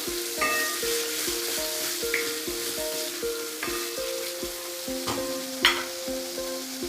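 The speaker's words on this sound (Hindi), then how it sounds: "मिक्स कर लेंगे हम इसे एक बार। टमाटर भी अच्छे से गल चुके हैं इसमें।" Tomato masala for Allahabadi aloo dum sizzles in a pan while being stirred, with a soft steady frying hiss and repeated spoon strokes against the pan, close by.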